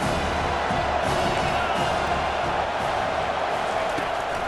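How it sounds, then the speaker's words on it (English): Stadium crowd in EA Sports College Football 25, a dense, continuous roar of cheering fans, loud and sustained, with broadcast commentary over it. "This crowd knows when to bring it."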